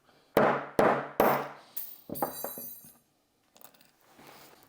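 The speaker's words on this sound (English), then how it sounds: "you can just keep hammering away until it punches through" A metal pin is hammered through a Tyrant CNC I.T.T.S. trigger shoe: three loud, sharp, evenly spaced strikes ring out, then a cluster of quicker, lighter taps, a pause, and faint rattling near the end.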